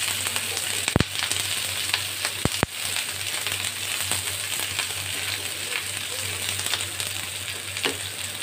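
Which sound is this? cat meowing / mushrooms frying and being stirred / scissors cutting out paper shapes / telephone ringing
mushrooms frying and being stirred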